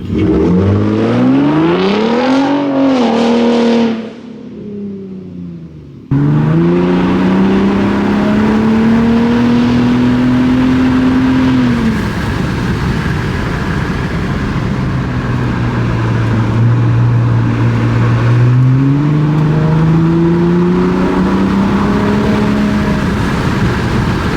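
A 2023 Ford Raptor pickup truck's engine drones steadily up close, its pitch rising and falling as it accelerates and shifts, with no talking.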